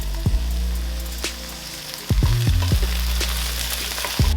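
Vegetables sweating in a pan for a celeriac and apple soup give a steady close sizzle and crackle, with a few louder pops and stirring clatters partway through.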